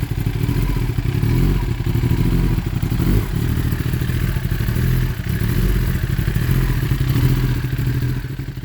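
A 2019 Kawasaki ZX10R fitted with an Akrapovic full exhaust runs loud and close, its engine note rising and falling steadily through blips of throttle with a rough, clattery mechanical edge throughout.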